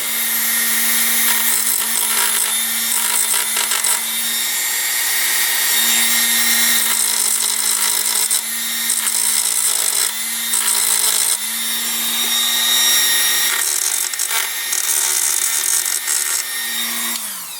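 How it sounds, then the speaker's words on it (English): Dremel rotary tool grinding burrs off a part for a CFMOTO UTV, a loud, steady high-pitched whine with a constant motor tone that dips briefly as the bit bites into the metal, running close and continuous with no talk. "Took our Dremel, just kind of taking off some of those burrs there."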